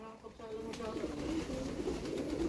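Pigeons coo softly in a low, repeated rolling call, fairly close and gentle, while people talk quietly in the background.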